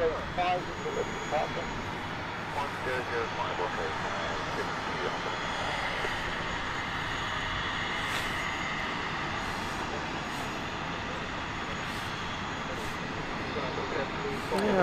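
An aircraft arriving from Belfast at London City Airport, a distant, steady engine roar across an open airfield. Faint voices are heard in the background throughout.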